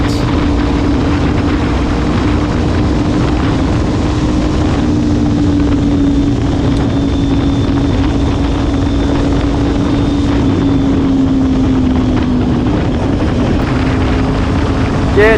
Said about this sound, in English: that wind's bad